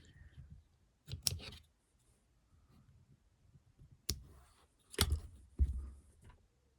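Scissors trim the excess fishing line from a catfish rig with pellets attached: three or four sharp, close snips at irregular intervals, with quiet pauses between and no talking.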